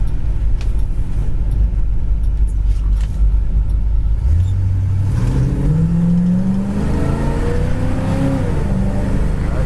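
A 1966 Chevy Impala SS, likely its 275-horsepower V8, rumbles loudly and steadily, then revs up as the automatic transmission shifts, the engine note climbing and stepping through gears with no talking.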